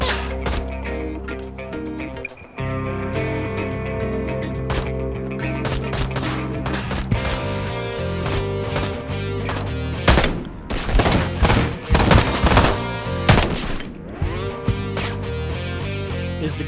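Rapid video game gunfire, bursts of automatic shots layered over a dense, continuous game soundtrack, loudest and most chaotic in the later seconds.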